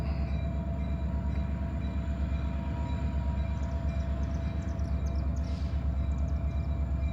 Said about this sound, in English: Up front today is a leased CSX engine.